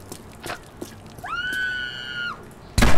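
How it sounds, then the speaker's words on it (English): A character screams in the violent shooter game Postal 4, one sustained high wail lasting about a second, set against sparse game noises and ending in a loud burst. "Don't scream."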